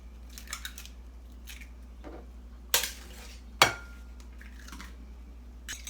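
Two eggs are cracked into a bowl: two sharp, close shell cracks about a second apart, with small clinks and quiet kitchen handling around them.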